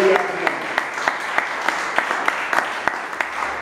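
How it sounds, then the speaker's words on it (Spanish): A church congregation claps together in a strong, rhythmic round of applause with sharp, evenly spaced beats standing out above the crowd, close and steady throughout. "Den un aplauso fuerte al Señor."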